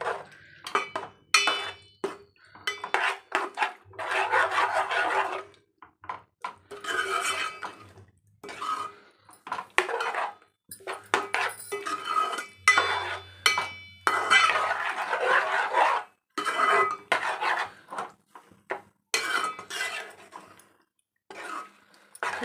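Chicken being stirred in a pan for a restaurant-style red chicken dish, with repeated clattering scrapes of a metal spoon against the pan in irregular bursts and short pauses, up close and without talk.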